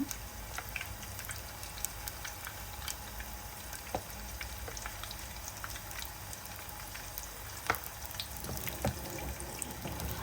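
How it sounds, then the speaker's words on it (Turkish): Spoonfuls of yogurt dessert batter fry in hot oil, sizzling and crackling steadily, with scattered sharp pops over a constant hiss. "Yağ iyice ısındıktan sonra bir kaşık hamurdan döküyorum."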